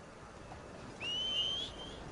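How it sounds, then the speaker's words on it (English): A player's whistle calls a horse in the video game Red Dead Redemption 2: a single clear, sustained rising whistle about two-thirds of a second long, heard alone over faint ambient background. "Whistling for the horse."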